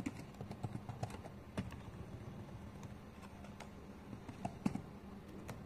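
Soft, irregular clicking of a computer keyboard as someone types JavaScript code, quiet, close keystrokes in uneven bursts with occasional sharper taps and no talk.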